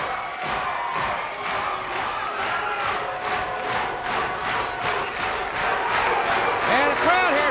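A large wrestling arena crowd roars and cheers loudly and continuously during a tag-team match, with a dense wall of noise, rhythmic surges and a whistle near the end.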